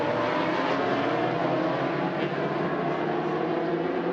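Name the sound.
racing motorcycles on the track at Macau Grand Prix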